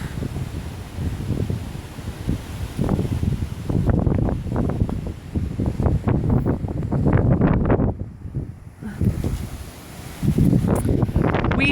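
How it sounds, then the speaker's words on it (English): Strong gusting wind during a tornado watch batters the microphone outdoors, a loud rumbling roar that surges and eases in waves, briefly dropping before swelling again, with no talk. "Let me see if you can hear how windy it is."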